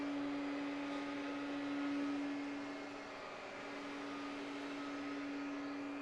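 An old vacuum cleaner runs continuously nearby, a steady, loud motor hum that dips slightly and recovers.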